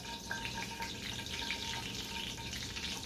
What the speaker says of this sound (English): I already have my hot grease going on over here, and I'm just going to put this tortilla in for just a few seconds on both sides